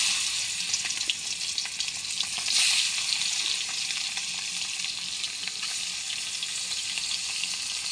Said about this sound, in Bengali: এদিকে উনুনটা ধরিয়ে কড়াটা বসিয়ে দিয়েছি চিংড়ি মাছটা ভাজবো বলে।